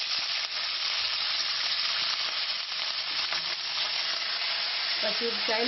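Green chillies sizzle and crackle in hot oil in a pan for raw tomato chutney, a loud steady frying hiss throughout with a light stirring scrape near the end.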